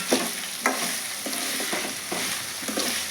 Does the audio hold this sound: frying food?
yes